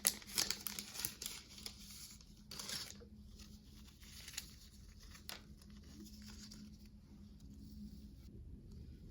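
Seasonal stickers crinkle and rustle as they are handled up close, with soft crumpling bursts near the start and lighter patter and rustling through the rest, over a faint steady background hum.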